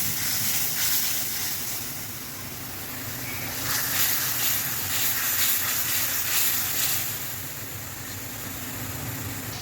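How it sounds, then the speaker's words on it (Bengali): Spice paste frying in oil for a Bengali gondhoraj fish curry gives a steady, close hiss and sizzle that swells in the middle and holds throughout, with no talking. "যতক্ষণে তেল ছাড়া হচ্ছে ততক্ষণে সুন্দর করে মশলাটা কষিয়ে নিতে হবে"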